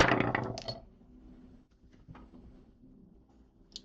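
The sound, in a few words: dice rolling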